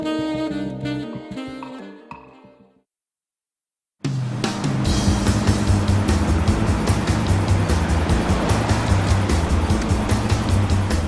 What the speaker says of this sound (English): The little Miata hurtles down the Canyon Road just south of San Francisco